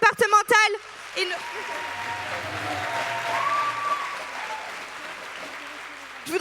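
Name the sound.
crowd applauding at a political rally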